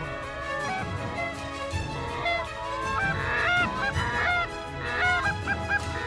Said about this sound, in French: les premières bernaches du Canada, avec leur façon typique d'arriver, en rase-motte, droit sur les formes